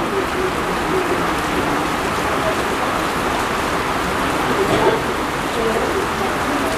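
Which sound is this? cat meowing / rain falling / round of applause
rain falling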